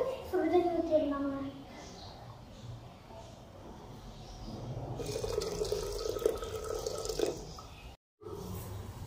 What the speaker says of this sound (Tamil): சுடுதண்ணி ஊற்றிடலாங்க.